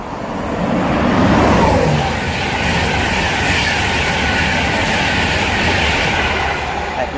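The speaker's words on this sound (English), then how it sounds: "And now getting ready to pass by is the 225 set for Virgin Trains East Coast." A Virgin Trains East Coast InterCity 225 set passes loudly at Hitchin on the East Coast Main Line, a sustained roaring rush with faint wheel clatter that builds quickly and holds steady.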